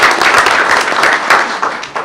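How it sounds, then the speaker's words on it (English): An audience at a school board meeting claps for about two seconds. The applause is loud and dense, with no voices over it. "Well, we'll applaud."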